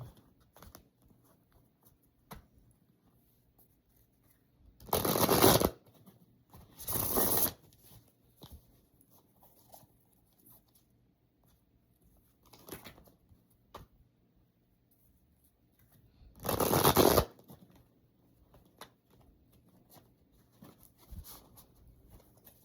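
A deck of playing cards is shuffled in three short, crisp riffling bursts, separated by long quiet pauses with faint handling noises, close to the microphone.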